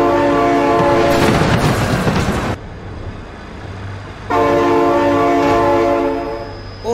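A train passes close by, its loud horn blaring in two long blasts separated by a gap filled with rumbling and clattering wheels, no voices present.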